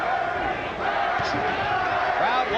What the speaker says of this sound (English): Crowd once again chanting for Donald Curry.